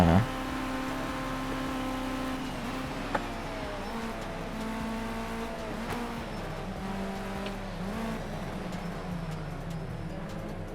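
Racing engines in Project Cars 2 drone and rev continuously at close range, pitch sliding up and down through gear changes and corners, with a brief click near the three-second mark and no talking.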